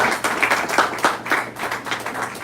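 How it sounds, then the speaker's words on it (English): Applause at a community tour event in Capitol Heights, Maryland comes through as a small, moderately loud group clapping in uneven bursts, with a few individual claps standing out. "give that man a round of applause"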